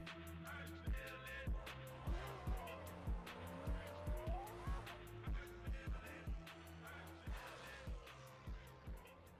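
Race cars in a drift racing video game, including a Nissan S15 and a 350, with engines revving hard and repeated sharp tire squeals in a steady rhythm, loud and close, with no talk over them.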